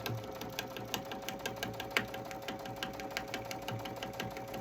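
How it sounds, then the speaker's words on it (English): A sewing machine back stitches a seam on a dish drying mat, running steadily and fairly quietly with a rapid, even needle rhythm throughout. "So I'm just back stitching."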